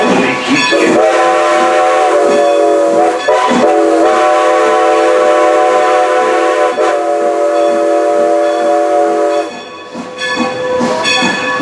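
Strasburg Railroad steam locomotive sounding its horn loudly and close, long sustained blasts with brief breaks, over running train noise and clatter.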